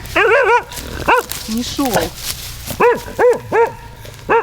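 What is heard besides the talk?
dog barking outdoors near campfire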